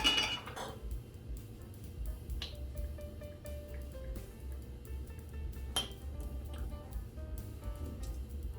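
A metal measuring spoon clinks against a yeast container as a tablespoon and a half of yeast is scooped for an artisan bread loaf, with a few bright, scattered clinks over a quiet kitchen background.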